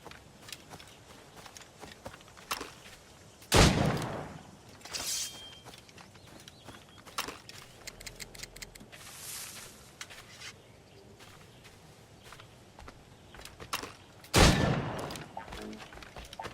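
Gunfire in the Assassin's Creed Rogue game, two loud, sharp shots about ten seconds apart, with scattered fainter pops, footsteps and light ambient noise between them.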